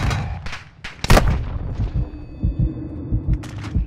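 Gunfire in Call of Duty MW2 cracks out in sharp bursts, one loud close shot followed by a rapid string of fainter thumping rounds under low game rumble.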